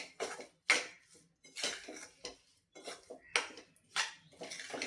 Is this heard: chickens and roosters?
no